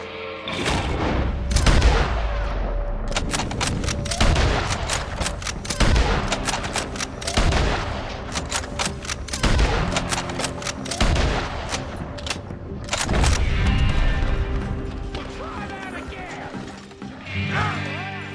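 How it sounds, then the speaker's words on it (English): Gunfire rings out from a building in the video game Red Dead Redemption 2, with repeated loud shots and bursts in rapid volleys throughout, heavy and close, with game voices shouting over the din. "There's one shooting from up in that building."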